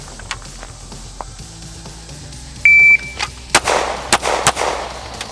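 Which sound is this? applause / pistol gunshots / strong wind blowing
pistol gunshots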